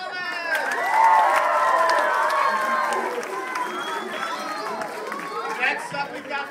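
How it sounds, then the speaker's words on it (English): A crowd cheers and chatters loudly, with excited voices and shouts layered over scattered clapping that stays fairly steady throughout. "How about a big round of applause for Francisco Gonzalez?"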